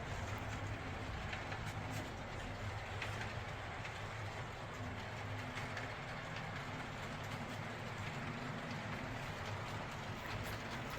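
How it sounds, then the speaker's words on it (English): An HO scale model train rolls over a foam viaduct bridge on a home layout, giving a steady, continuous rumble and faint clatter of wheels that holds at an even level throughout, with no voices. "Here you can see the train going over the viaduct bridge that I made out of foam using a hot wire tool"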